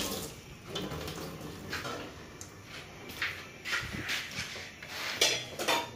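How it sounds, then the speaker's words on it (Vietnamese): In an outdoor kitchen, chicken is chopped and put into a pot of porridge: scattered clinks and knocks of utensils and cookware with some watery sounds, fairly close, under faint background noise. "Gà này giờ chặt ra cái là bỏ vô nồi cháo luôn nè."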